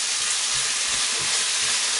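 Steady, dense sizzling and crackling of vegetable curry frying in a hot pan and starting to stick, close and continuous, with no voices.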